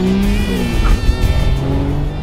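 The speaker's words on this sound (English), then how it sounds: "with the accelerator pedal wide open, instant power is ready and waiting" A twin-turbocharged Acura NSX accelerates at wide open throttle, its engine note climbing steadily in a loud, close, continuous rising whine with turbo whistle over a rumbling low end.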